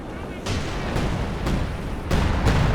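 Artillery in Company of Heroes 2 lands as a run of five heavy booming impacts at roughly half-second intervals, loud and close, over a low rumbling battlefield bed.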